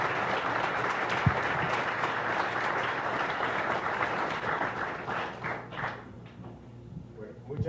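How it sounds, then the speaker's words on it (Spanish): Audience applause for a Panamanian author at a book presentation, dense and sustained, slowly thinning and fading toward the end. "Un aplauso para él."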